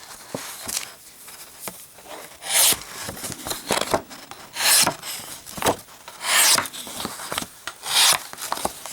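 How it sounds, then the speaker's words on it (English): A razor-sharp cleaver slices through a Hostess Cupcakes cardboard box, giving repeated loud rasping, scraping cuts in an uneven rhythm, close up with no talking. "Let's do a little bit more on the cutting test. And I'm going to use a Hostess Cupcakes cardboard box."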